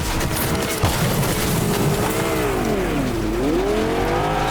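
A car engine in the video game Fortnite drives and revs, its pitch sweeping down and back up as it accelerates, loud and close, with no talk over it.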